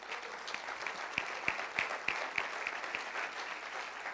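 Church congregation applauding, a moderate, distant wash of clapping with a few sharper individual claps standing out, fairly quiet throughout.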